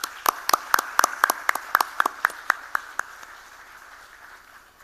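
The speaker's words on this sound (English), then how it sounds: "The applause should be going on" Scattered applause at a coding competition finale, a handful of distinct, sharp hand claps in a loose rhythm that thin out and stop after about three seconds, leaving quiet room tone.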